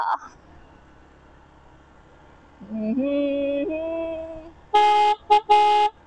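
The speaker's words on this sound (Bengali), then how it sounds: "ভাই ওর হর্নটা ভাই রে ভাই, হাইড্রোলিক হর্ন লাগাইছে" A hydraulic horn fitted to a vehicle in Barishal blares in two long, loud honks split by a short burst, following a lower, wavering tone.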